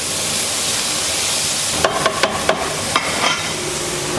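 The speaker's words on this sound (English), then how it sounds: "So the onions and the carrots are now sauteing." Onions and carrots sauté in a pan with a steady loud sizzle and hiss, joined near the end by a quick series of sharp taps and scrapes from stirring.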